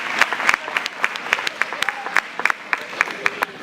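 Sparse applause from a church congregation during a Sunday morning service, a scattering of distinct claps close by over light room noise.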